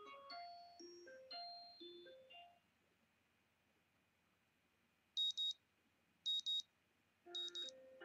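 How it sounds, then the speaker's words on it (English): An alarm clock in the visual novel game Katawa Shoujo sounds three short paired electronic beeps at even intervals, after a chiming melodic jingle and near silence. "The sound of an alarm pulls me out of a fitful slumber and into the unpleasant state of wakefulness."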